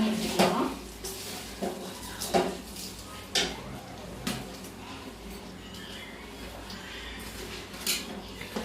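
Soaked, dried mango pieces stirred into a spicy pickle mixture in a pot, heard as irregular scraping clicks and knocks of a spoon against the metal, close, with quiet pauses between strokes.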